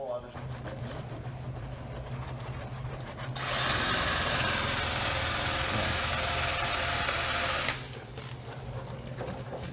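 A power tool fitted with an eraser wheel grinds against leftover vinyl adhesive, a loud steady high whine running for about four seconds, with people talking and mechanical noise before and after.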